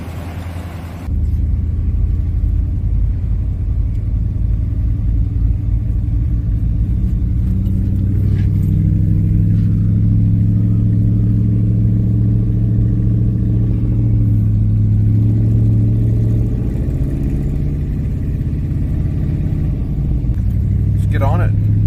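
A truck engine runs on a test drive, a loud, steady low rumble that starts abruptly and swells as it revs, continuing throughout.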